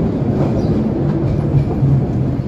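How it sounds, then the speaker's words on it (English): Monorail train gliding past in Detroit: a loud, steady rumbling roar with a low droning hum, continuous and close throughout the short stretch, with no talk over it. "Disneyland monorail, woo!"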